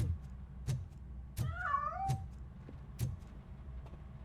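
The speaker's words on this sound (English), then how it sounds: "That cat must be hiding inside." A cat in the video game Robocop Rogue City gives one clear, drawn-out meow in the middle, set against regular soft thumping footsteps and low background hum. No speech.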